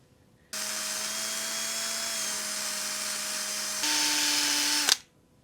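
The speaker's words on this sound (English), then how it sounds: "I'm going to go wire brush these because they're very rusty." A power drill fitted with a wire brush scrubs rusty bolts, a close, steady high whine with scraping grit that holds for several seconds, shifts up in pitch, then cuts off sharply.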